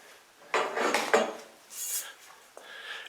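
Bimini-top hardware sized 7/8 inch being fitted onto 3/4 inch metal pipe, giving a few short metallic clinks and scraping rubs close by, with quieter handling noise between them.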